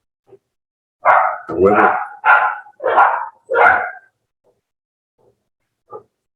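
Several barks come in a quick run of five close, loud bursts, followed by a couple of faint yips, with a brief spoken word mixed in.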